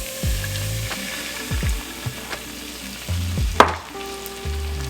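Orange juice sauce with garlic bubbles and sizzles in a hot pan while a spoon stirs it, with scrapes and a few sharper knocks against the pan; no one speaks.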